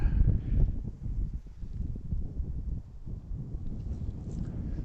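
Wind gusts straight into an outdoor microphone near an airport at rush hour, a loud, constant low rumble and buffeting that swells and dips throughout and covers everything else.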